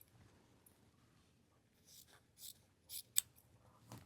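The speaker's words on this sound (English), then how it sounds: "I am, however, going to still cut the tip off" Scissors snip the tip off a fabric strip for a bias tape maker, a few quiet, crisp cuts close by in an otherwise hushed room.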